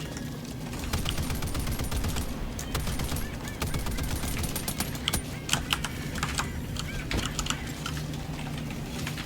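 Automatic gunfire from a machine gun in a chaotic co-op shooter video game, dense bursts and sharp cracks over a constant low battle rumble and effects for the full length, loud and busy.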